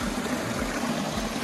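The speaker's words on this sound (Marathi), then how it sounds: "पाणी वाहून व्हाळात जमा होतं" Water rushing through a swollen forest stream in the Konkan hills near Vaibhavwadi, a steady, close, full-bodied roar of flow with no voices.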